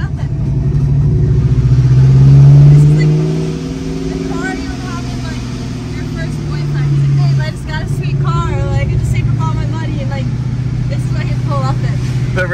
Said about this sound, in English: The blow-off valve and the pro charger in this thing is pretty nuts.